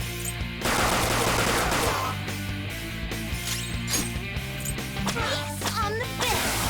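Video game gunfire, including a shotgun, sounds in rapid close bursts and single shots mixed with smashing impacts over several seconds, with game effects layered over it.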